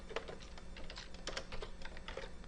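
Steady typing on a computer keyboard, a close run of light, irregular key clicks, with no one speaking.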